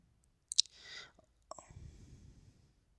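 A computer mouse clicks sharply a few times during an online registration form, with brief rustling and handling noise between the clicks, near and isolated.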